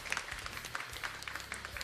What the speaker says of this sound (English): Crowd gives him a cheer.